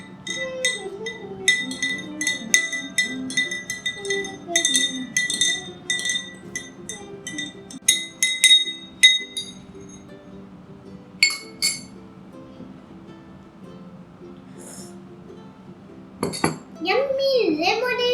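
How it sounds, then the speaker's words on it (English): Metal spoon stirring homemade lemonade in a glass: rapid bright clinks in bursts against the glass, fairly close, with a voice speaking between the stirring. "then we stir the spoon"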